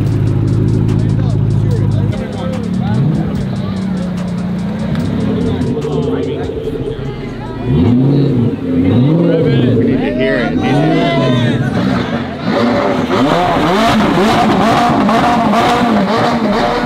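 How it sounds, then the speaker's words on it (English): Lamborghini engine revving on a street, with rising and falling surges over a loud idle, among nearby crowd chatter and people talking. "He's revving it right now."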